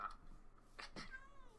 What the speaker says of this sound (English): Meet my cats.